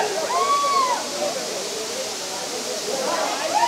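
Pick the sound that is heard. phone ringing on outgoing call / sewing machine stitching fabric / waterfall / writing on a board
waterfall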